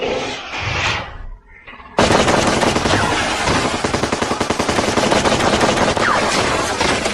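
A cartoon machine gun fires in a sustained, loud, rapid burst of shots that goes on for several seconds after a brief louder lead-in, with no talk over it.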